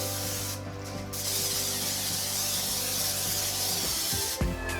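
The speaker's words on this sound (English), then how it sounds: "take a 9x13 baking dish and give it a good spray with Pam" Pam cooking spray hisses steadily into a 9x13 baking dish, one long close spray with a short break near the start, over a faint kitchen hum.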